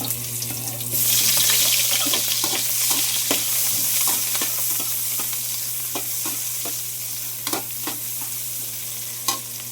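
Garlic sizzles in cooking oil for spicy fried adobo chicken, a steady loud hiss with close stirring scrapes and clicks of a utensil against the pan throughout.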